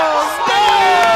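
A loud crowd cheering and shouting at a pro wrestling contenders match, a brief dense burst of voices.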